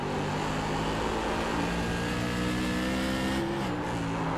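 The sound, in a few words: tour modified race cars on throttle at South Boston track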